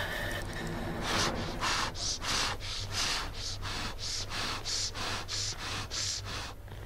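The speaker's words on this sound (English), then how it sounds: "Breathing intensifies." Rhythmic heavy breathing in the horror game Slender: The Arrival, a dozen loud, close, evenly spaced rasping gasps over a low steady drone.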